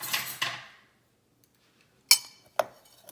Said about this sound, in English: I'm gonna mix up everything that's in the measuring cup there